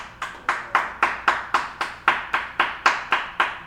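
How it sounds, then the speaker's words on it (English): A small group claps in unison, about twelve sharp, evenly spaced claps at a steady brisk rhythm, close and fairly loud, with no talking. "Clap like it's the second clap in Cha-Cha Slide."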